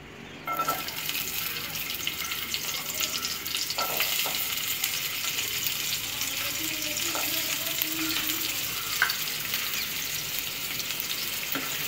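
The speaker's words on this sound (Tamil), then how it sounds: "இப்போ வெங்காயம் வந்து லைட்டாக வதங்கினதும்" Oil sizzles steadily as chopped onions fry in a hot pan for egg fried rice, with occasional scraping and clinks from stirring.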